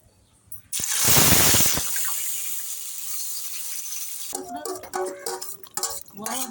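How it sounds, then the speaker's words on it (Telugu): Onion, green chili and tomato paste dropped into hot oil in a home kitchen pan, a loud burst of sizzling that settles into a steady hiss, followed by scraping and clinking as it is stirred. "ఉల్లిపాయలు పచ్చిమిరకాయలు టమాటాలు కలిపి మిక్సీ పట్టుకున్న పేస్ట్ ఇదైతే వేసేస్తున్నాం"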